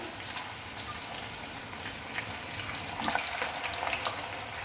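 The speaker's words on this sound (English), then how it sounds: "so let's fry this now" Potato chips sizzling in very hot sunflower oil, a steady dense crackling hiss with scattered sharper pops, growing slightly busier toward the end, with no one speaking.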